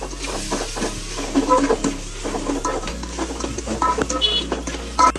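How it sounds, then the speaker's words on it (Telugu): A spice mixture with coriander powder stirred in a cooking pan, with soft continuous sizzling and scattered light spoon scrapes against a low background hum. "వేసుకున్న తర్వాత కలుపుకోవాలి మంచిగా మిక్స్ అయ్యేటట్టు."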